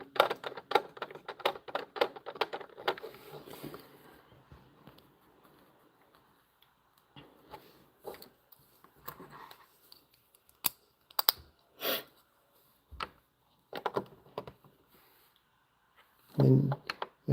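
LEGO pieces click as a popcorn wagon set is built, with dense rapid clicking at first, then sparse irregular snaps and clacks of small plastic bricks, close by, and someone speaks in places.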